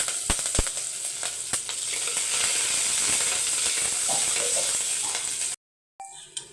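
Mustard seeds, cumin, garlic, dried chillies and curry leaves sizzle in hot oil for a South Indian tempering, a loud steady hiss with sharp popping crackles, close by, cutting off abruptly near the end.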